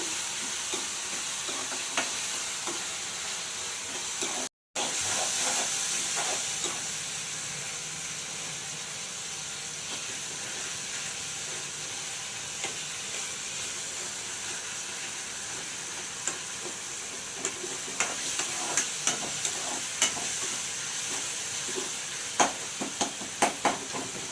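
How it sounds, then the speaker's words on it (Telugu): Tomatoes softening in oil in a pan give off a continuous, even sizzle and hiss with faint stirring clicks, cut by one brief dropout, no talking. "టమాటాలు అయితే ఇట్లా మగ్గిపోయినాయండి ఆయిల్లో చక్కగా"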